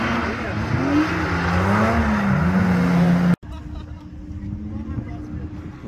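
An Audi A4's 2.5 V6 engine, its exhaust routed straight upward, revs loudly up and down with a droning, wavering tone, then drops to a quieter, rougher idle.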